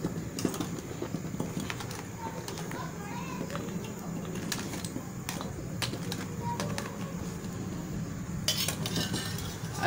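Steel utensils being scrubbed and turned over while washing, with scattered metallic clinks and scraping over a steady wet rustle, as someone talks throughout.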